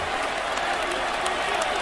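Boston Celtics fans in an arena applauding their starters late in game 6 against Golden State, a continuous roar of clapping and crowd noise with no pauses.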